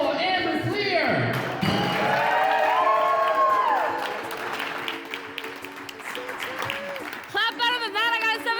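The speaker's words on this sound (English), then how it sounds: "Give it up for the hilarious, the queen of animal, Amber Klear" A comedy-show audience claps and cheers for a comedian taking the stage, with whoops rising over the applause and a voice talking through the crowd noise.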